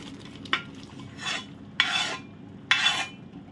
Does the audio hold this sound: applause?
no